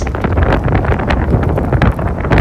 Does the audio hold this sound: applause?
no